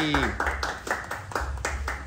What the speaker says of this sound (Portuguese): Un fuerte aplauso para compañera